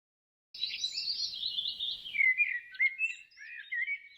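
Birds chirp and tweet in quick, bright calls, fairly close and steady, with a soft rustling underneath for the first couple of seconds.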